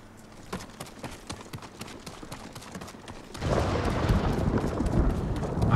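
Rhythmic hoofbeats of a galloping horse in the video game Ghost of Tsushima, steady clip-clop pulses, then a louder rushing noise swells in and covers the second half.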